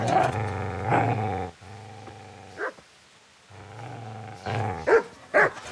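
A dog growls and snarls in Kingdom Come: Deliverance, a deep, rumbling growl that surges in two long stretches, split by a short gap, with sharp snaps and barks near the end.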